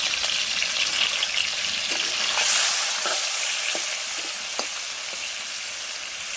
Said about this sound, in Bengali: এবার আমি কড়াতে তেল দেবো আবারও, আর দিয়ে মাছগুলো ভেজে নিয়ে